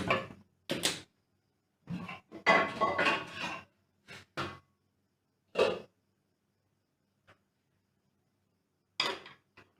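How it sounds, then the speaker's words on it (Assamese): A few sharp metallic clanks and scrapes as a wok is set down on a stove and handled, separated by quiet pauses. "এয়া মই কেৰাহী এটা চৌকাত পাতি দিছো।"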